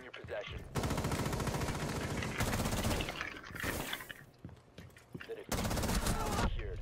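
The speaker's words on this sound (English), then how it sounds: "Stop shooting me, Avern." Rapid automatic gunfire bursts in the video game Rainbow Six Siege, loud sustained volleys separated by short gaps, with players' voices chattering faintly between the shots.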